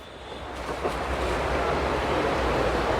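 A Jisulife FA35 Pro rechargeable fan with an aluminium body runs close by, giving off a steady, fairly loud rush of blown air with no voices.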